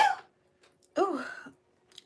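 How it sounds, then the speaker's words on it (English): A woman sneezes once in a quiet room, a short sharp burst after a faint breath, then silence with a tiny click at the end. "I gotta sneeze."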